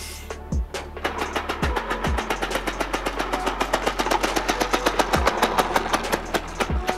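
A small air-powered four-stroke engine on a radio-controlled car runs at 50 PSI, chugging in a steady, fast, slightly uneven rhythm that builds gradually and stays close and fairly loud throughout, with a few low thumps along the way.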